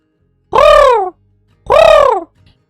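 Two loud, harsh crow caws used as an alert sound on a livestream, each about half a second long and separated by a short gap, close and alone.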